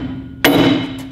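Sharp single hammer blow driving a brake clip into its hole during a brake and tire job on an XL Specialized RGN trailer, a loud metallic strike with a ringing tail over a low steady hum.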